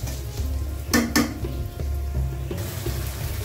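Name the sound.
onion and green chilies frying in oil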